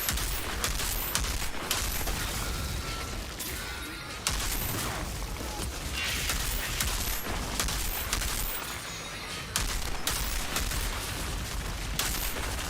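Sustained video-game gunfire rattles almost nonstop, dense bursts of shots and blasts layered over each other at a loud, steady level with no speech.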